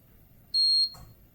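A MINI-PAM-II porometer with leaf clip gives a single steady electronic beep lasting about a third of a second during a saturation pulse measurement, clear and close against a quiet background.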